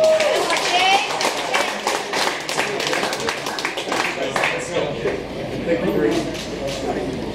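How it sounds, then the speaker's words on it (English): Scattered crowd clapping greets a boxer at a fight weigh-in, with an announcer talking over the uneven applause throughout. "Give him a big round of applause."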